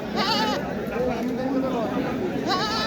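Goats bleat a few times among crowd chatter at the Taherpur livestock market after rain, one wavering call early and another near the end, set in a noisy outdoor gathering.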